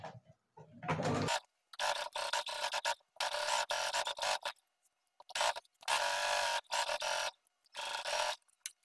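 A sewing machine stitches around the curve of a front pocket in bursts of steady, close mechanical whirring, separated by short pauses of silence.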